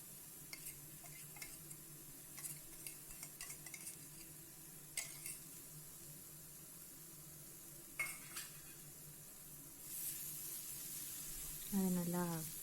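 A paste of fried, ground onion and cashew is stirred into a pan for paneer masala, with a faint steady hiss under sparse scrapes and taps, swelling louder near the end with a brief voice.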